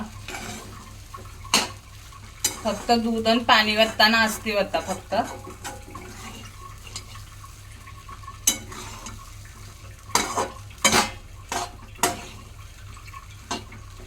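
Mango semolina halwa being stirred in a pan: a spoon scrapes and clinks against metal in short bursts, with a stretch of stirring and sharp taps, while someone talks intermittently over it.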